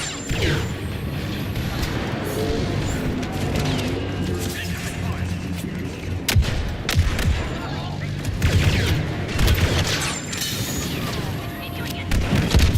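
Repeated gunfire and booming explosions from the video game Star Wars Battlefront II, dense and continuous through the scene, with talk over the top.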